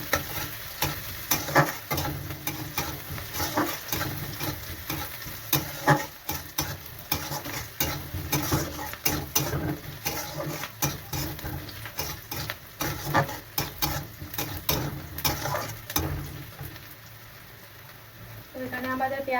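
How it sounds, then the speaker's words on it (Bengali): Sliced onions softening and browning in a hot pan, a dense crackling sizzle with frequent stirring scrapes throughout, close and fairly loud, easing off near the end. "তো এখানে আমাদের পেঁয়াজটা একটু সফট হয়ে এসছে, আর একটু হবে, আর একটু ব্রাউন হলে তারপরে আমি দেবো।"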